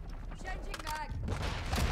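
Rapid bursts of Kastov 545 rifle fire in Modern Warfare 2, dense repeated shots close and loud through most of the moment, mixed with game effects.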